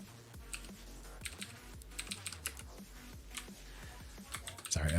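Rapid, irregular keystrokes on a computer keyboard, close and steady for several seconds, with a few louder clacks and a heavier thump at the end.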